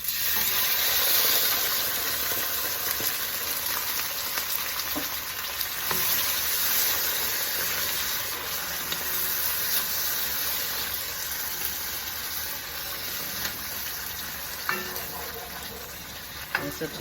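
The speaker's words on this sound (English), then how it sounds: "now we're gonna put some tomato sauce in there. Okay, because we're going to let it saute up." Tomato sauce sautéing in a hot pan for Portuguese shrimp, a steady close sizzle and hiss with occasional stirring scrapes, continuous throughout with no talking.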